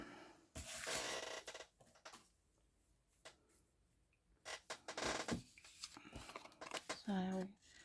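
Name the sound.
scissors fussy cutting paper stamped image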